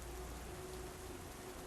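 Steady rain downpour hissing continuously, with a constant wash of drops and a low rumble, dense and even throughout with no voices.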